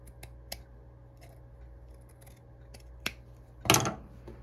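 Scissors cut fabric for a small craft bow in a quiet room: a few faint, sparse snips, then one louder, longer cut near the end.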